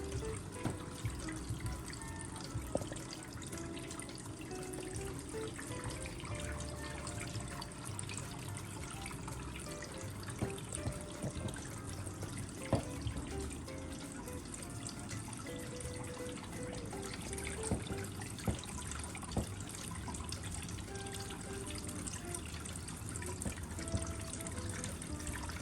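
Water flows steadily into the pods of a Gardyn Home 4.0 indoor hydroponic system, a constant trickling wash with scattered small drips, close and moderately loud throughout.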